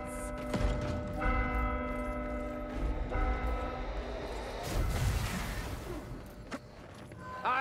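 A large church bell tolls with long ringing overtones in the Warhammer Vermintide video game, several loud strikes layered over mechanical creaks and rumbling battle ambience, swelling near the end.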